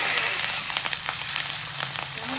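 Teesta raikhor fish frying in hot oil, a steady loud sizzle and crackle throughout with occasional sharper spits and pops.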